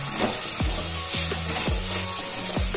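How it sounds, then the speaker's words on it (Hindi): Chopped tomato is stirred into potatoes frying in a pan, a steady sizzle broken by several regular scraping strokes of the spoon against the pan, close and clear. "अब हम इसमें एक कटा हुआ टमाटर ऐड करेंगे, इसे भी अच्छे से हिला देंगे।"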